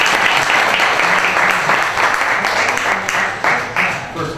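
A crowd at a sheriff candidates' panel for a Republican primary applauds a candidate being introduced, loud, close clapping that swells and then starts to thin toward the end.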